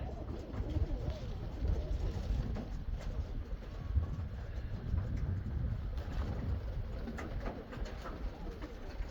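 A flock of pigeons coos steadily throughout, a dense low murmur of many birds close by, with faint wing flutters and shuffling mixed in.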